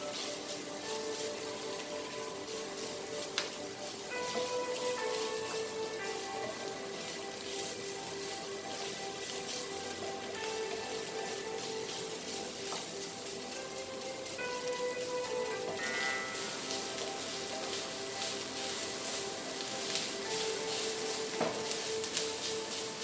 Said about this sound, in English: fry this till it nicely fried or nicely roasted